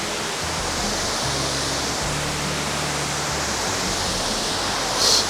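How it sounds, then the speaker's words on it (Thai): Roaring waterfall at Khlong Lan National Park in Kamphaeng Phet, a loud, steady, dense rush of falling water close by, filling the scene with no voices. "ตอนนี้เรา ถึงน้ำตกของลานะนี่"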